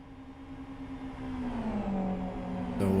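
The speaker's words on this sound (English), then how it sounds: "it sounds like Sami Lipmanen is indeed suffering from engine damage" A damaged race car engine at speed in a GT Cup sim-racing game at Blackwood Historic, droning steadily with a harmonic whine that sags slightly in pitch and then shifts abruptly near the end, with no talk.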